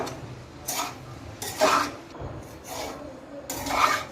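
Poha with vegetables is stirred and mixed in a pan, with repeated scraping, rubbing strokes of a spoon against the metal coming in uneven bursts, fairly close and clear.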